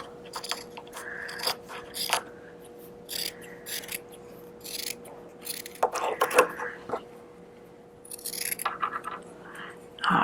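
Scissors snip through a folded cotton shirt to cut out a no-sew face mask, a series of close, irregular crisp cuts and rustles, with a person talking over parts of it.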